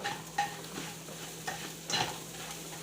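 An egg fries quietly in a pan, with a soft continuous sizzle and a few light scrapes and taps of a utensil as it is stirred, close by and fairly faint.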